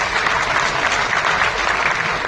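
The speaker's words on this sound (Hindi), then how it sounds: "मैं चाहता हूं कि तालियां बजाकर सभी अतिथियों का हम स्वागत करें।" An audience at a regional tourism conclave in Rewa claps in dense, sustained applause to welcome guests, a steady loud wash of hands with no talking over it.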